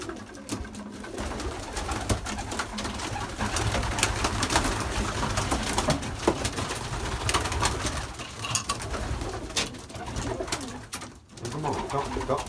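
Young pigeons released from an aviary fill the air with steady cooing and bird calls throughout, with faint wing flapping and a little background talk.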